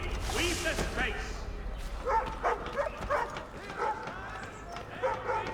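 A dog barks and yips repeatedly at moderate distance in the Assassin's Creed 3 game world, mixed with background ambience and voices talking.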